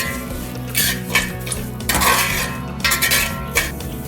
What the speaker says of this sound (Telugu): అదే నెయ్యిలో గోధుమ రవ్వ కూడా వేయించుకోవాలి